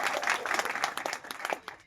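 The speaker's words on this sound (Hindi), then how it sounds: "तालियां बजाओ यार" Audience clapping at a devotional discourse, a steady patter of many hands that is moderately loud and close, with no voices over it, lasting under two seconds.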